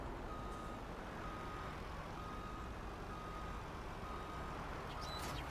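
A truck reverses a plow in the video game Farming Simulator 19, its faint, steady reversing beeps repeating over a constant engine rumble.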